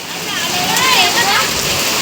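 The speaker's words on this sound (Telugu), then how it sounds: "మరి వర్షం ఎక్కువైంది" Heavy rain falls in a dense, loud, steady hiss of drops splattering on surfaces nearby, with a voice faintly audible beneath.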